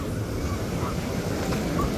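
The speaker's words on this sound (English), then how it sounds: "If we get some waves just like this right here" Ocean waves break and wash along Rosarito beach in a broad, continuous roar, with wind buffeting the microphone throughout.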